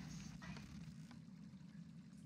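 Water pouring and trickling out of something in the horror video game Visage, a soft, steady splashing stream with a low hum underneath, heard alone at fairly low level.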